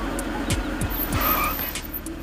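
A car braking to a halt on a road, with short tire squeals and a low engine rumble fading as it slows, close and fairly loud with no voices.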